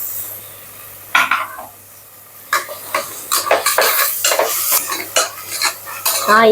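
Mint and coriander stirred into hot oil in a single pot for vegetable pulao, sharp metal spoon scrapes and clanks against the pot over a soft background sizzle.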